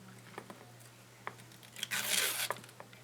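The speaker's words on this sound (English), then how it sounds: "It is the curling ribbon. Let's go ahead and curl it." Curling ribbon is pulled across a scissor blade while a floating ornament is made, giving a sustained ripping, crinkly scrape in the middle of the clip, with a few light taps and rustles before and after.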